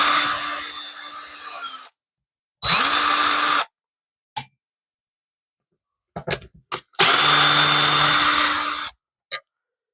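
A power drill backs out the neck screws on a heavily relic'd Firefly guitar, giving several loud close whirring bursts of about a second each, separated by silences and short clicks of the trigger and handling.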